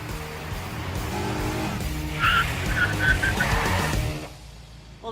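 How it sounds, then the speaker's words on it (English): A Mini car with its reinstalled engine drives close by, the engine revving hard for a few seconds as tires squeal briefly, then the sound cuts off abruptly. "enjoying the Mini's reinstalled engine"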